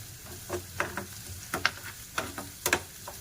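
Curry leaves drop into hot oil and sizzle in short crackling bursts, close and moderately loud, with stirring scrapes in between and no talk.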